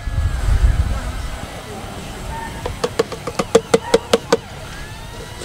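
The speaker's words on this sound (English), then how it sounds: "Sorry about the wind, hope you can still hear me." Gusty wind buffets the microphone outdoors at a Memorial Day crawfish boil, a low rumbling roar strongest early on, then a series of about eight sharp rhythmic knocks toward the end.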